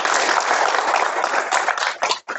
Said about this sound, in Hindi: जोरदार तालियां हो जाइए।